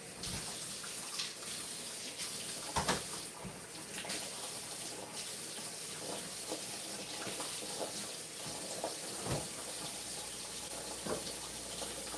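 Warm tap water runs steadily into a measuring cup, a continuous close splashing flow that holds at an even level for the whole stretch with no voices.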